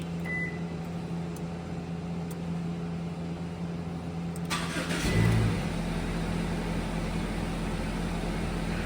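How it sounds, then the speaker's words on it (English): A Subaru engine fires up by remote start, a quiet idle hum suddenly swelling into a loud, steady running rumble that continues alone to the end. "So I'm going to go ahead and start the engine."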